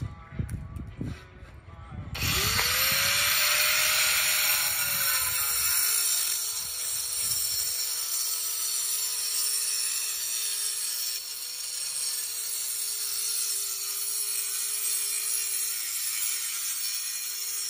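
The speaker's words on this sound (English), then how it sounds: "I'm only cutting a 1/2 inch of concrete out here, so I'm gonna use a 4 1/2 inch grinder" A 4 1/2 inch angle grinder whines steadily as it cuts into concrete, its pitch wavering slightly, after a brief burst of louder clattering at the start.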